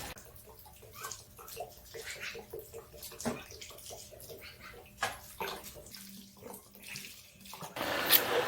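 Arbor press parts are scrubbed with soap and water, with intermittent splashing, dribbling and clinks of handled metal at close range, pausing and resuming before a louder running-water burst at the end.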